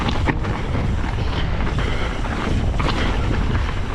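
Strong wind on a southwest Nevada mountain ridge roars steadily and loudly across a mountain biking outing, buffeting the microphone with continuous broadband rushing and no pause.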